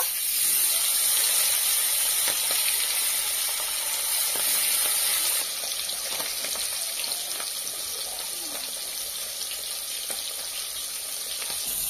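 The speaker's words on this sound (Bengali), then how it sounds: "তেলটা গরম হয়ে গেছে, এখন আমি তেলের ওপরে মাথা দিয়ে দেব।" A steady, crackling sizzle of a rohu fish head frying in hot oil, loud and continuous, with no voices.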